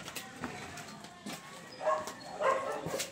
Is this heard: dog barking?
yes